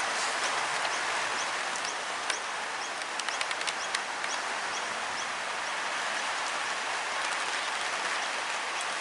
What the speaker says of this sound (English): Play is been halted because of the rain.